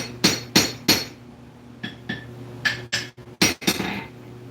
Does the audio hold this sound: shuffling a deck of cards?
no